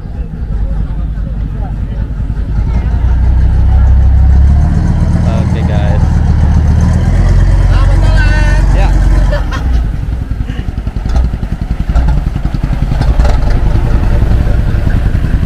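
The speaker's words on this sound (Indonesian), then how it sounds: "Jadi ini kapal melanjutkan ya guys ya ke Samarinda, KM Al-Mu'minun yang sempat singgah tadi di dermaga Tenggarong." The river taxi boat KM Al-Mu'minun pulls away from the Tenggarong dock on the Mahakam toward Samarinda. Its engine holds a loud, close, steady rumbling drone the whole time, with faint voices now and then.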